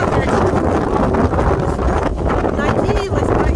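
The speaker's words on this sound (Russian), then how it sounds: "Как не выйду на море, так поднимается ветер." Strong gusty seashore wind during a storm in Antalya, Turkey, roars and buffets the microphone, with a broad rushing noise that stays loud and constant throughout.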